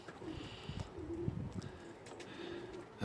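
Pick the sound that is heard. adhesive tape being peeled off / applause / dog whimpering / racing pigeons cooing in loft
racing pigeons cooing in loft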